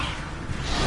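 Levioso levitation spell cast in the video game Hogwarts Legacy, a short airy whoosh that swells slightly louder toward its end, lasting under a second.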